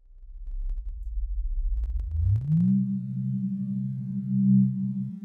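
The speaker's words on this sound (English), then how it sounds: "let's pick a nice little sine wave here" A pure sine tone from a virtual analog oscillator in a granular synthesizer, sweeping upward from a deep rumble to a steady held pitch with faint harmonics, sounding alone and clean.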